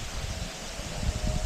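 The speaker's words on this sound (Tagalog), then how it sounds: "Hangin dito." Soft, steady wind with a faint rustling hiss, low and continuous with no voices.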